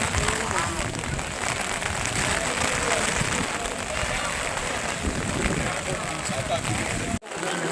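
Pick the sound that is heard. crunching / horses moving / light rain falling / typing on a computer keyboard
light rain falling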